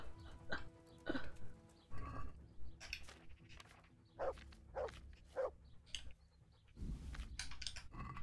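Dog barking in the medieval video game Kingdom Come Deliverance, with several short barks spread through the clip over game ambience and background clatter, fairly close but modest in level.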